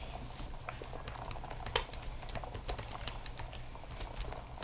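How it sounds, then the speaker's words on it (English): Computer keyboard keys typed in quick, uneven bursts, clicky and fairly close, with one sharper louder press standing out among the steady pattering. "Today we are gonna test my keyboard if it's loud."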